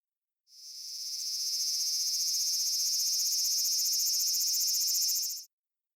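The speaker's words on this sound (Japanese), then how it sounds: "アブラゼミはじーっと鳴きます。" A large brown cicada, the aburazemi, gives a steady, loud, harsh sizzling buzz that swells in, holds unbroken for about five seconds, and stops abruptly, heard alone with no voices.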